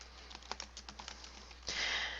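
A computer keyboard types the name for a new tax in a quick, irregular run of soft, close keystrokes, ending with a brief louder rustling burst.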